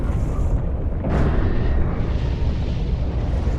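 A heavy, rumbling video game explosion from Beyond: Two Souls booms out, with a sharp burst partway through over a dense, roaring wash of noise.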